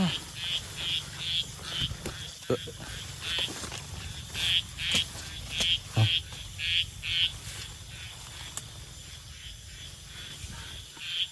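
Frogs croaking in a dense outdoor chorus, with pulsing bursts repeating steadily over a low background hum.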